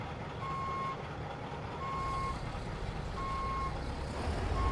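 A Mack R truck with a five-reverse-gear transmission in American Truck Simulator backs up, its reversing alarm sounding four evenly spaced steady beeps over a low continuous engine rumble.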